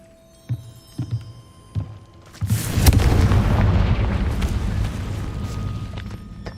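A Confringo fire spell explodes in Hogwarts Legacy: a few soft thuds, then a loud booming blast that rolls into a long rumbling roar and fades slowly.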